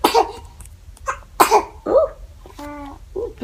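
A few abrupt bursts, one sharp sneeze or cough after another, sound close by in a quiet indoor room, with a brief squeak in between.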